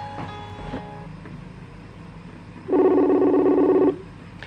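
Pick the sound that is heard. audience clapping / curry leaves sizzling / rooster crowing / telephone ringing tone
telephone ringing tone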